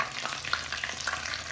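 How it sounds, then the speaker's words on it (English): Triangular Moroccan briwat pastries fry in hot oil with a steady, faint bubbling sizzle and scattered small pops, brief and continuous with no voices. "Just gonna need a little fry on the bottom."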